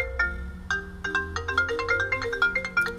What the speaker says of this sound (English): so we're getting a phone call on this phone right here.